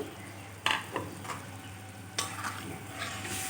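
Spice paste for til aloo dum gets stirred in a cooking pot over a low simmering sizzle, with two or three distinct scraping clanks of a spoon against the pot, close and moderately loud.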